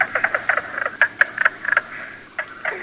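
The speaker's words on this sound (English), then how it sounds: "Right behind him, we might run into a mink frog" A mink frog calling in Michigan's Upper Peninsula, a series of short, sharp knocking croaks in irregular clusters, close and clear against a quiet outdoor background.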